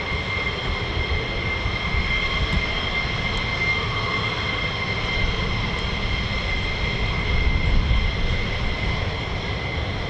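US Air Force F-15 fighter jet flying over the RAF Lakenheath area, heard as a steady, continuous broadband engine roar at moderate distance that swells slightly near the end, with no talk.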